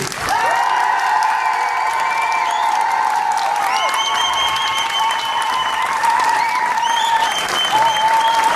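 Crowd at a troubadour tournament in Gruyères applauding and cheering to vote for a group. Loud, sustained clapping is mixed with whoops and tonal shouts for the whole stretch.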